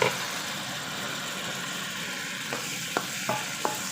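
Pork fries in a pan with a steady, close sizzling hiss, joined later by a few light, evenly spaced taps of a stirring utensil.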